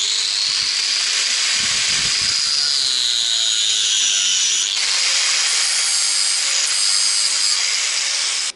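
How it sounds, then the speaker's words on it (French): Hand saw cutting through six stacked metal washers clamped in a vise, a loud, close, continuous rasping that runs steadily throughout with no pauses or talking. "Et maintenant, je vais découper ce qui gêne."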